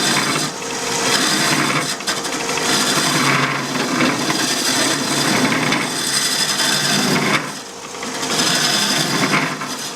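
A deep hollowing tool cuts into wood on a lathe, working about 8 inches over the tool rest, giving a steady, loud, scraping roar with brief dips near two and seven seconds.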